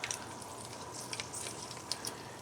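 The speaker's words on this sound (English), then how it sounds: "and let the sizzle do its thing" Romanesco steaks sizzle in hot oil in a pan, a faint, steady crackle of small pops and spits with no talking.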